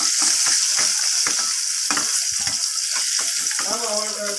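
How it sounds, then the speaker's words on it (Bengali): Pointed gourd frying in hot oil, a loud steady sizzle with bubbling crackle throughout and light stirring clicks near the end. "দেখুন আমার পটলটা এখানে লাল লাল করে ভাজা হয়ে গেছে এরপর আমি পটলটাকে তুলে নিচ্ছি তেল থেকে"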